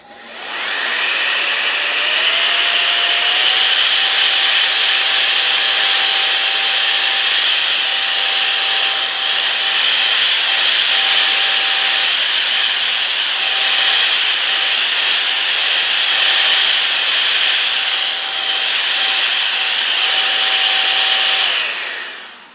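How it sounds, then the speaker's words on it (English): An electric air duster blows dust out of a propane heater filter, spinning up into a loud, steady high-pitched whine and rushing airflow that holds for about twenty seconds before cutting off, close and uninterrupted. "I've been using this duster to clean these out"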